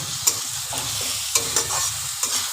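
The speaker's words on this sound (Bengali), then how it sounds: "দিয়ে এবার ভালো করে মশলাটাকে কষিয়ে নেব" Spices and chopped tomato being stirred and fried in a pan for an egg bhujia curry, a steady sizzle under irregular scrapes of the spoon, with a few sharper clacks standing out close by.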